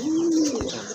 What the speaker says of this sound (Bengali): সুন্দর একটা নর কবুতর